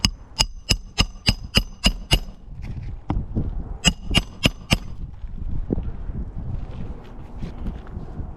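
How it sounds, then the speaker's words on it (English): A hammer drives a nail into roofing in two quick runs of sharp, evenly spaced strikes, about seven then four, followed by softer shuffling and handling noise outdoors. "so I can hammer it down, install this nail."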